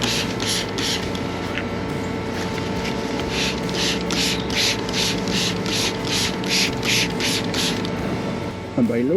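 A handheld angle grinder trims a cow's knuckled-over hoof, giving a steady, close, whirring grind with rhythmic scraping pulses throughout, a few brief dips near the end.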